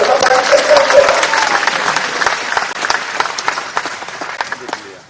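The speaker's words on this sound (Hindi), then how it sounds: "जोर से ताली बजा के स्वागत करो" A big crowd at a national highway project foundation-laying ceremony claps loudly in welcome, a dense, sustained wash of applause with voices mixed in, tapering slightly toward the end.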